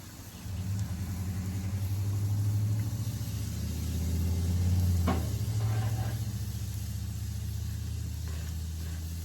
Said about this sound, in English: You really want to get a good sear on this.